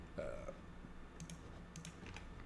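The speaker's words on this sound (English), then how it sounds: "I'm burping again." A single short, faint burp near the start, followed by quiet room tone with a few light clicking sounds.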